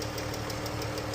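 Jeep engine idling with a ticking noise from worn rocker arms and a lifter: a steady, loud mechanical drone with a fast, even ticking running through it, and no voices.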